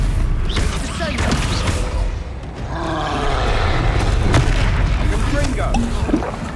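Descendo spell in Hogwarts Legacy slamming an enemy to the ground, a heavy booming impact amid loud, continuous battle noise with rumbling low end and scattered sharp hits over several seconds.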